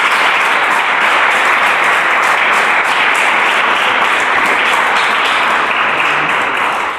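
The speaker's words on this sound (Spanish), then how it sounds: "Dale un aplauso a Cristo, quien hace esta salvación." A church congregation breaks into loud, sustained applause during a Spanish-language service, dense clapping from many hands holding steady for several seconds, close and full.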